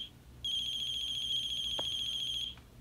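A phone ringtone in a video game sounds in one sustained electronic trill lasting about two seconds over a quiet background hum, with a faint thump partway through and no talking.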